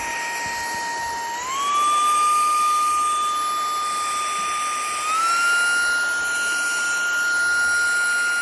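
A ZARIMI handheld vacuum runs with its suction nozzle attached, holding a loud, steady high-pitched motor whine that rises in pitch twice as the load changes, heard alone and close.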